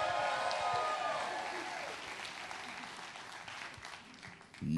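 A studio audience at a game show applauds and cheers, with loud clapping at the start that gradually fades to lighter clapping near the end.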